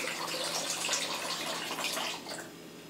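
Water runs from a household filter into a cooking pan for a batch of homemade liquid soap, a steady close splashing trickle that fades slightly toward the end, with no talk over it.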